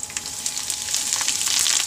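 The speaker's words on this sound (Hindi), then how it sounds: "अब इसमें मैं मिर्ची डाल के गैस का फ्लेम हमें स्लो कर देना है, क्योंकि मिर्ची के दाने जब तेल में जाते हैं ना तो उड़ते हैं" Green chillies for mirchi pickle hit hot oil, giving a continuous crackling sizzle with sharp spattering pops that builds slightly louder, close up and without voices.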